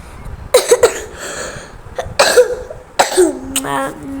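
Three or four harsh, close coughs come in separate bursts with short quiet pauses between them, and there is no talk.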